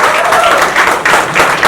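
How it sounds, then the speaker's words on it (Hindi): Applause from an audience at a Hindi film trailer launch, a short dense burst of clapping that stays loud throughout, with a faint voice briefly audible. "उनके लिए जोरदार तालियां।"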